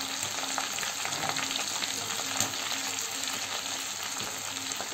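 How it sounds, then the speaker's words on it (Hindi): Boiled chickpeas coated in cornflour deep-fry in hot oil over high flame, producing a steady, loud, dense sizzle that bubbles evenly throughout without any voices. "तेज आंच पे हम इनको डीप फ्राई करेंगे क्योंकि ऑलरेडी गले हुए हैं।"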